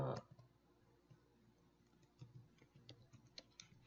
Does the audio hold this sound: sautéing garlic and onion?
no